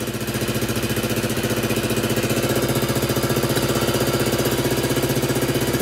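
Honda CT90 (Trail 90) engine idling during carburetor tuning, a loud, close, steady single-cylinder putter with a fast, even pulse that holds constant throughout.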